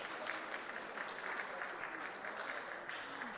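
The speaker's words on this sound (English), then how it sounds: "Please applaud yourselves." An audience at a government summit claps together in a steady, moderately faint round of applause that holds evenly from start to finish.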